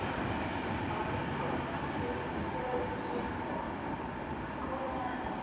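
Steady low rumble and rolling noise of an electric passenger train departing Coventry station, continuous and fairly loud with no talking.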